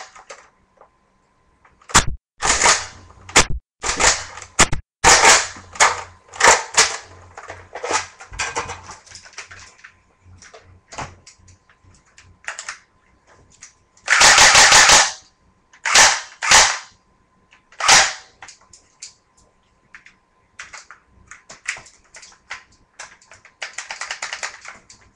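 Toy dart gun firing foam darts in a run of sharp, separate snapping shots, some in quick bursts and others spaced apart, each loud and close with silence between.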